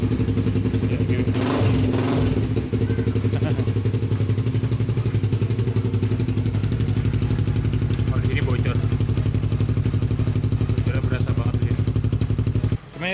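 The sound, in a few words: Suzuki GSX-R150 motorcycle revving with leaking Akrapovic replica exhaust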